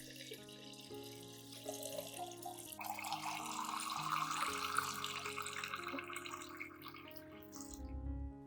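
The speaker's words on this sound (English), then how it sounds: "Next, add 1 liter of clean water to dilute the mixture." Clean water pours steadily into a container holding a garlic and rice-water solution, the stream rising in pitch as it fills, with gurgling and splashing close by, then stopping near the end.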